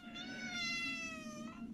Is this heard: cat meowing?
yes